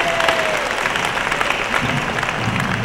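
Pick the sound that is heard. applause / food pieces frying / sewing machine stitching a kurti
applause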